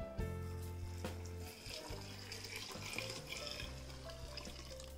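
Coconut milk pours into a cooking pot for coconut rice, a continuous liquid splashing and trickling sound close by with some clinking, and no voices.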